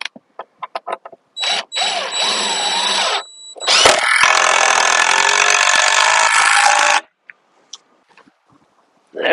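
A power drill drives screws into a log while an Alaskan chainsaw mill is set up: a short whirring burst, a pause, then a longer, louder sustained run with a few clicks and knocks around it, fairly close.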